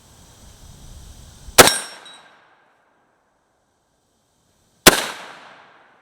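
A Galil ACE rifle in 7.62x39 fires two loud, sharp shots about three seconds apart outdoors. Each crack leaves a bright ringing tail that fades into silence.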